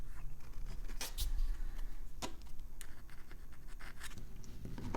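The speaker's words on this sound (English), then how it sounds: "Now move the plastic opener around properly." A plastic opening tool pries slowly around the back cover of a Samsung Galaxy S25 FE phone, giving faint close scratches and small sharp clicks scattered over a soft background hum.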